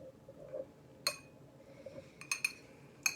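A metal spoon clinks several times against a bowl while butter is stirred into gluten-free frumenty, a few bright taps scattered over a quiet kitchen background.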